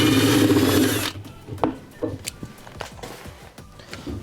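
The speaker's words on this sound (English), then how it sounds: "So I got a 7/16 socket incorporated on my drill." A power drill with a 7/16 socket backs out the impeller bolt on a Whirlpool washer: a loud whirring burst of about a second, then scattered clanks and rattles of metal parts.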